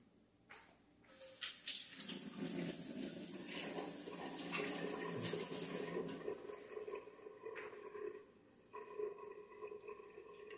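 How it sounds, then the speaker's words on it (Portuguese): A recorder flute is rinsed under running tap water at a sink, giving a steady, loud splashing rush that fades into softer dripping and trickling. No one speaks. "Agora eu enxago a flauta doce. Então, vou enxaguar em água corrente"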